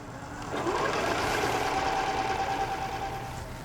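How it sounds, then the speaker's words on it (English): A home sewing machine runs a zigzag stitch through knit fabric and elastic, making one steady mechanical whir that starts after a moment of quiet, holds for a few seconds and then eases off. "Once you go back to your sewing machine, just make sure, again, you're using a nice comfortable zigzag stitch"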